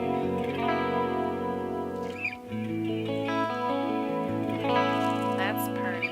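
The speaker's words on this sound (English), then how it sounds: "this is just the plain version of it with a little bit of, what do I have? A little bit of chorus," Clean electric guitar through a Kemper profiler with chorus, delay and reverb plays sustained chords and ringing single notes, shimmering and spacious, heard alone at steady volume.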